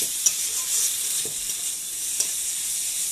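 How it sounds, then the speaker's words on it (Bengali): Spiced potatoes fry in a hot pan with a steady, bright sizzle, two small clicks from stirring, and the sizzle stays loud and even without any talk as hot water is added. "এবার গরম জল দিয়ে দেবো।"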